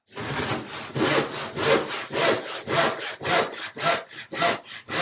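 A hand saw cuts through plywood in steady, rhythmic back-and-forth strokes, about a dozen rasping passes close up and fairly loud, with no talking.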